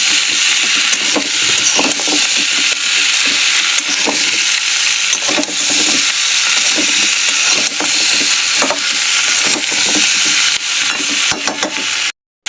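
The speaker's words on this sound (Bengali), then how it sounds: "এটা দিয়ে আমি ভালো করে কষিয়ে নেবো" Ginger garlic paste and spices sautéing in a pan, with a steady close sizzle and frying hiss and repeated scrapes of a spatula stirring throughout, loud and without talk before a sudden cutoff at the end.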